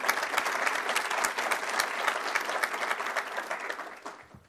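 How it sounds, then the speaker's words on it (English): Audience applause at an event on protecting children online, a dense round of clapping sustained for several seconds before tapering off near the end. "Let's give her a round of applause as well."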